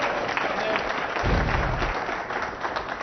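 Applause from a knowledgeable crowd at a professional pool event, the Mosconi Cup 2011, greeting a good positional shot; a short burst of clapping swells and fades over a steady hum of arena noise.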